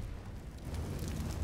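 A grenade goes off on the Vertigo map in Counter-Strike, a quiet, muffled rumbling boom that holds steady and swells a little toward the end, with no talk over it.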